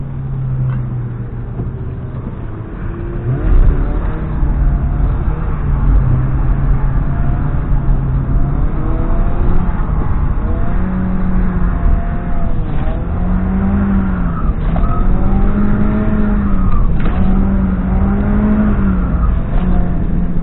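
A car's engine drones and revs steadily at close range during warm-up at a drift day, with rising and falling pitch sweeps as the driver works the clutch and handbrake, continuous and loud throughout.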